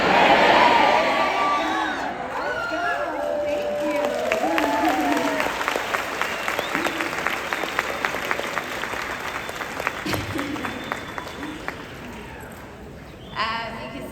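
Convention audience shouting and cheering together, a loud burst of voices that settles into sustained applause with clapping, whoops and crowd noise filling the hall.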